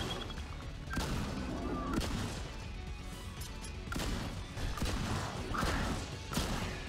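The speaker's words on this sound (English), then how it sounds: "I wish the shotgun were a lot more punchy." Shotgun blasts in the shooter game STRAFE boom repeatedly, roughly one per second, each sharp crack trailing into crashing impacts and mechanical clatter, fairly loud and close.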